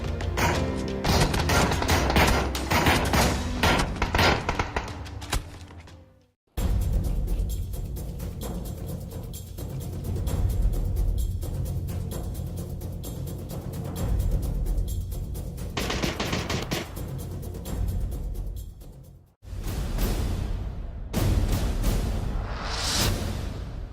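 Video game weapon firing in rapid, heavy-recoil bursts, loud and close, with sustained machine-gun volleys broken by brief pauses.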